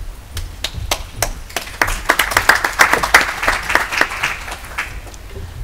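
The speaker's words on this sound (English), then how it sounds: "Nice to get a round of applause." A small audience claps at a conference talk on responsible tourism marketing: a few scattered claps that thicken into brief, fuller applause near the middle, then thin out.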